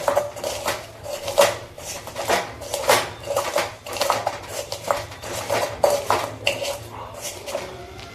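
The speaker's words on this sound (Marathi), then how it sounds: "आता हे सर्व मिक्स करून घेतल्यानंतर हे ग्लासाच्या साहाय्याने बारीक करायचं" Peanut chutney mixture with chili being crushed by pressing and grinding a glass against a dish, a run of repeated knocking and scraping strokes in an uneven rhythm, close and clear.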